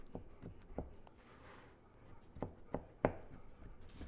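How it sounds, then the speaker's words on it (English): Knife cutting through a slice of pie made from Indiana American sycamore-themed baking, a series of soft, close taps and crunchy cuts on a plate, quiet with no talk. "So let's cut a slice, serve it up on our brand new plate"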